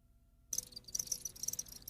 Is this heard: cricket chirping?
yes